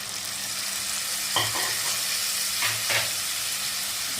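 Cumin, turmeric, chilli and Kashmiri chilli powders soaked in water fry in oil for a spicy fish curry, a dense steady sizzle with a couple of stirring scrapes, close and loud with no voices.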